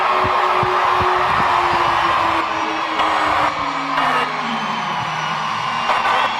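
A full-capacity crowd of close to 8,000 at a baseball game in Constellation Park, Texas, whoops and yells in a continuous loud roar as t-shirts are thrown into the stands, with individual shouts rising over the steady din.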